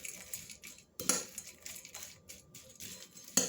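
A spoon clinks and scrapes against a bowl while sweet corn is stirred into chipotle mayonnaise, soft repeated scraping broken by a few sharper metallic taps, with no one talking.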